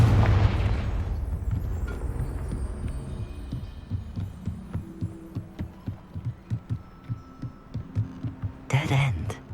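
Confringo blasting spell cast in Hogwarts Legacy: a loud burst at the start, then a rumbling series of rhythmic thuds and a final louder blast near the end.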